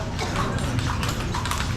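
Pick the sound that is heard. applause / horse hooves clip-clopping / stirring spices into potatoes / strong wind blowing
horse hooves clip-clopping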